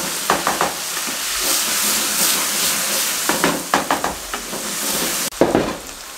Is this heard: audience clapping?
no